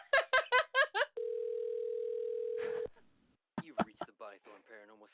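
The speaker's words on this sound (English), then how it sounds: "Oh, there's phone call." A long steady telephone tone sounds for nearly two seconds in a horror video, preceded by several short rhythmic ringing bursts, loud and close, followed by a voice on the line.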